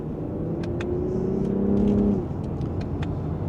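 A Lexus ES F Sport accelerates from second gear in Sport Plus, its engine note swelling to a steady, moderately loud rising drone from inside the cabin before easing off, with faint ticking clicks throughout.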